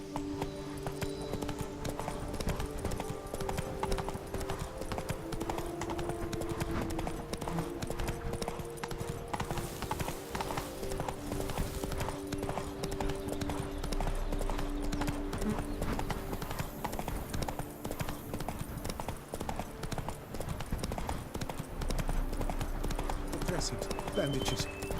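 Roach, the horse in The Witcher 3: Blood and Wine, trots with steady, fairly loud clip-clopping hooves over ambient game music, with a voice speaking briefly.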